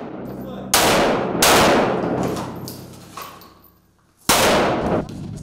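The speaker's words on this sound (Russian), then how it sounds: "Огневая подготовка у бойцов в обязательном порядке." Loud, close gunshots ring out during fighters' firearms training at a shooting practice, several sharp reports with bursts of rapid fire separated by short pauses and echoing decay.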